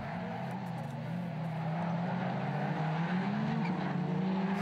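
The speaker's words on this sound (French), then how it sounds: "La Peugeot 207 de Peu semble plus rapide que la Clio du leader, mais Grosséjanin a du métier" Rallycross race cars, a Peugeot 207 and a Renault Clio, at a Châteauroux event, engines roaring steadily as they pass at a distance, pitch rising and shifting under continuous track noise.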